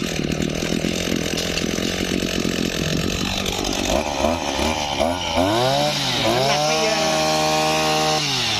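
A Maruyama AC263SB 26cc single-handle brush cutter engine runs loud and close, first at a steady high buzz, then revved up and down in repeated swells of pitch, with no voices.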